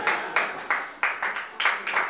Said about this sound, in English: I got a clap for Lucille Ball